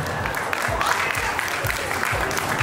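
Steady applause fills a wedding sagan ceremony as guests clap for Ravi ji, a dense even patter with a few voices murmuring underneath.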